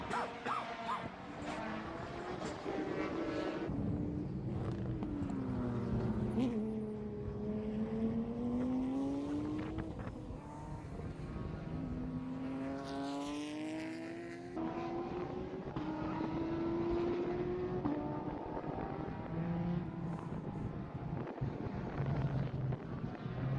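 Race cars at the Miami Grand Prix turn into the paddock, their engines droning and rising and falling in pitch as they pass at a distance, with wind buffeting the microphone throughout.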